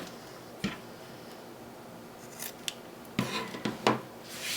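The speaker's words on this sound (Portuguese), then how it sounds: "eu corto e deixo o viés rente ao tecido quiltado" Scissors trim bias binding flush against quilted fabric while a zippered teardrop pouch is being sewn, giving a few quiet, sparse snips and rasps over a faint background hiss.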